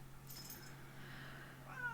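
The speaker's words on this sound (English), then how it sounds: "Sorry, I got a loud tortoiseshell cat." A tortoiseshell cat meows close by indoors, one drawn-out call and then a rising second meow over a low steady hum in a quiet room.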